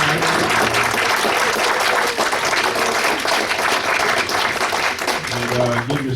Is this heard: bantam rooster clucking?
no